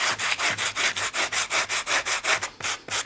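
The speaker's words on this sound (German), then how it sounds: "Und das mache ich auch einfach mit dem groben Schleifpapier." Coarse sandpaper is rubbed over leather in quick, steady back-and-forth strokes, a close, loud scratchy rasp repeating about five times per second with no voices.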